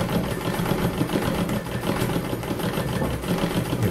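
A treadle sewing machine runs steadily while embroidering a thistle, its continuous mechanical whir and rapid stitching clatter filling the scene at an even, loud level.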